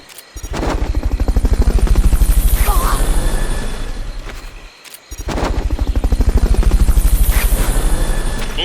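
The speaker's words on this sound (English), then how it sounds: "Fulton Recovery subject confirmed onboard helicopter" Loud, steady helicopter rotor chop from a Metal Gear video game fills the scene, dipping briefly before the thumping resumes at full strength.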